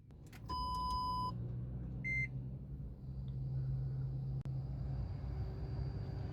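Startup of a 2014 Toyota Prius with an 1.8-litre engine: a crisp electronic chime of sustained tones, then a shorter double beep, over a low steady cabin hum.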